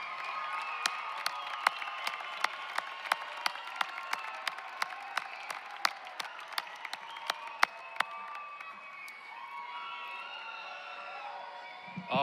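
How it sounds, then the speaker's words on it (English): Audience at a commencement and pinning ceremony applauds at length, a dense crowd of clapping with scattered cheers and whoops, gradually thinning toward the end. "Let's give them one more round of applause"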